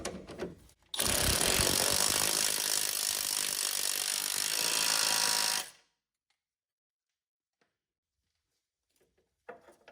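A power ratchet whirs loudly and steadily for about five seconds, driving a nut down on a Saturn Vue front suspension part, then cuts off into near silence.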